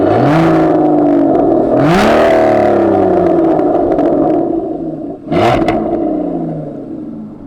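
Aston Martin Vanquish S V12 with a louder quad exhaust revving hard three times, each rev a rising, loud roar that drops back to a steady, throaty drone between blips.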